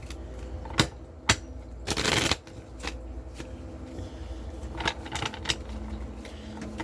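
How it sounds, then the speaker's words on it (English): Tarot cards shuffled close up, a brisk series of crisp riffles and slaps with one longer rushing riffle, then lighter flicks and taps, no talking. "I like to shuffle them in front of y'all so that way you can see."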